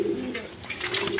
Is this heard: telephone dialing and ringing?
no